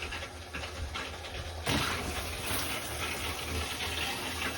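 Clear water gushes steadily out of a Lakota Colt LQ horse trailer's plumbing during de-winterizing, a continuous hiss that surges louder partway through and keeps running without pause.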